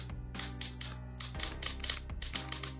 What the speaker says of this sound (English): That is the most worrying sound I've ever heard for an arm joint.